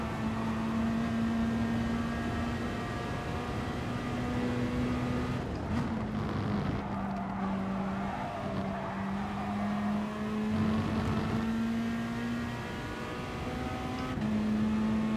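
Race cars from a GT Sport online manufacturers cup race, with a steady engine drone and held gear tones running throughout, rising and shifting in pitch as the car accelerates and brakes, loud and continuous with no voices.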